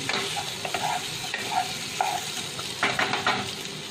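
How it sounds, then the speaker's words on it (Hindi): A boiled, peeled potato is stirred into spices in a sizzling pan for achari aloo, with steady frying hiss and a few scraping strokes of the spoon and no voices. "इसको अच्छी तरह हम मिक्स कर लेते हैं।"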